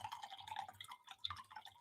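Coffee poured into a mug, a quiet stream of liquid trickling with small splashes and drips, faint and close, with no talking over it.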